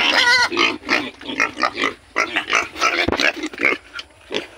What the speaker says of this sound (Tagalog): Yan yung baboy. Napapakain natin.